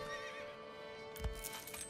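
A horse whinnies in the medieval city-building game Manor Lords, a drawn-out neigh over steady game ambience, followed by a couple of soft hoof thuds near the end.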